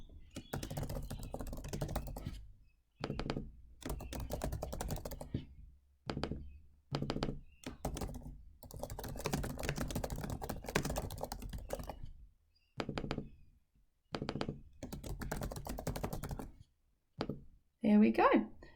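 Computer keyboard keys clatter in quick bursts as someone types categories into a Google Docs chart, the tapping coming in short runs separated by pauses, with a voice talking over it.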